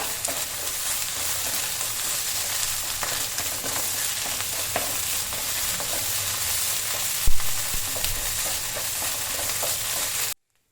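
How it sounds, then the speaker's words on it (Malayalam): Chicken pollichathu masala, Kerala style with yogurt, sizzles steadily as it is stirred in a pan; a continuous close frying hiss runs throughout with one sharp clack of the spoon midway, no voices. "ഒന്ന് നന്നായി ഇളക്കുക."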